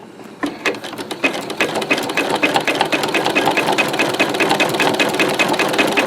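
A sewing machine stitching rope into an oblong bowl starts up after a short pause and runs in a fast, steady, loud mechanical rattle of needle strokes, close by and without speech.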